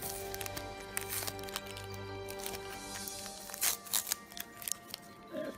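Taped package of trading cards being pried and torn open by hand, with soft crinkles, scrapes and a few sharp tape rips close by, quiet and intermittent.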